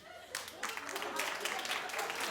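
Studio audience at a daytime talk show breaking into applause, a dense wash of clapping that swells in and carries on, with a voice talking over it.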